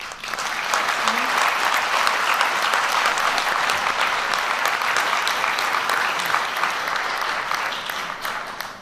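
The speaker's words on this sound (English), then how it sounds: "Please join me in a round of applause for His Excellency Sheikh Mubarak Fahad Al-S" Sustained audience applause at a formal ceremony honouring a dignitary, dense steady clapping from a large crowd lasting throughout without a break.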